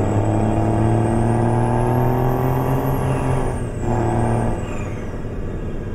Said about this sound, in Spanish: Una preciosa este motor, amigo.